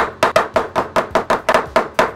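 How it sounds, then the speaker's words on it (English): A Genoa hammer's curved face taps a timber tenon for a timber-frame sawhorse, about nine sharp, close, evenly spaced knocks with no talking. "using the curved face of my Geno hammer, just start tapping it."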